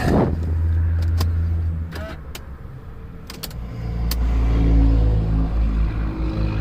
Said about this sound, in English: It's cranking the car.